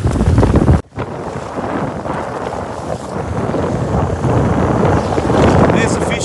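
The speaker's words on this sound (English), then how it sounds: "There's waves and that coming everywhere." Wind buffets the microphone over rushing water and surf at sea off Amed, Bali, a loud continuous roar with a brief dropout near the start.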